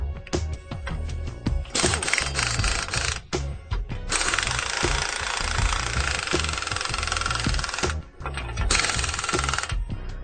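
Power tool driving bolts tight on an RV stabilizer bracket for a Blue Ox TruCenter setup, loud buzzing bursts of several seconds each, separated by short pauses and clicks.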